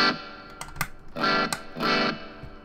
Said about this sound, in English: Now I'm going to kick in the MXR.